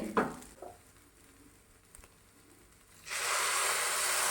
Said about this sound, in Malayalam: ആറ് ഗ്ലാസ് തിളച്ച വെള്ളം കൂടി ഒഴിച്ചു കൊടുക്കുന്നുണ്ട്